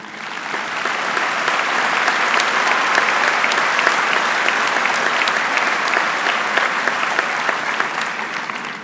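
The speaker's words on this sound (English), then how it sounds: "present the valedictorian medallion to Lane, please join me in honoring her with a round of applause." A crowd at a high school commencement breaks into sustained applause for the valedictorian, a dense, even wash of many hands clapping that swells in and holds steady for several seconds.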